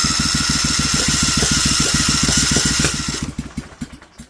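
A rusty-cylinder Vanguard 16HP engine cranking with a fast, even chugging from the starter, nearly catching, then the rhythm slows and dies away, no one speaking.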